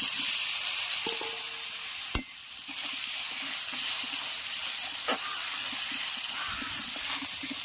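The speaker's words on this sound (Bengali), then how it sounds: "এই পাশে আমি আলুটা ভেজে নিচ্ছি।" Potatoes rubbed with salt and turmeric fry in hot oil with bay leaf and cumin, giving a steady close sizzle and hiss, with a few sharp clinks of stirring and occasional pops.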